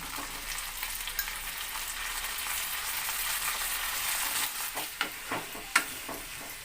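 Marinated chicken sizzles and spits as it fries in a pan with vegetables, a steady hiss with a few sharper crackles and stirring clatters toward the end.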